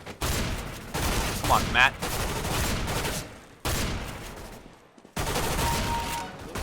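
Shotgun blasts in Counter-Strike: Global Offensive: several loud, dense bursts of fire close together in quick volleys separated by short gaps, with someone speaking briefly between shots.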